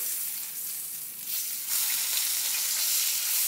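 Steak searing in a hot pan just after being flipped, a steady close sizzle that briefly softens and then returns louder and fuller, no voices.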